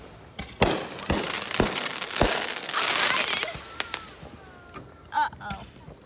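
Fireworks going off at a Fourth of July celebration: a series of sharp, loud bangs and firecracker pops, followed by a crackling burst and a few whistling, fizzing pops, close by, with brief voices in the background.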